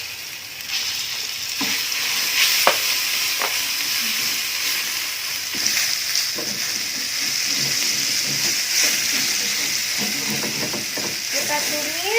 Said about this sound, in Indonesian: Setelah panas, kita masukin bumbu yang udah dihaluskan tadi ya.